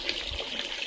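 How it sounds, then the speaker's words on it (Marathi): Rice grains being washed with clean water in a bucket during outdoor village-style cooking, giving a steady, continuous slosh and trickle of water throughout the short moment. "धुवून घ्यायचं आपल्याला पहिल्यांदा तांदूळ स्वच्छ पाण्याने"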